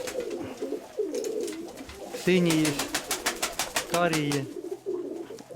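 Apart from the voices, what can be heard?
pigeons cooing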